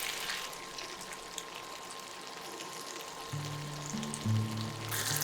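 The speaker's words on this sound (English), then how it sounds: "On medium heat, let the dry fish cook along with the onion and garlic." Dry Bombay duck fish cooking with onion and garlic on medium heat, a faint, soft frying crackle with light watery patter, joined by a low tonal hum in the latter half.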